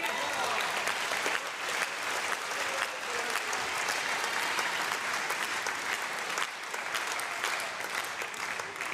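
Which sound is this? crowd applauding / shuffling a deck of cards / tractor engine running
crowd applauding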